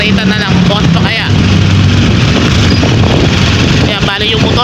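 Borrowed motorcycle engine droning while riding, loud and close with heavy wind buffeting, and someone talking over it.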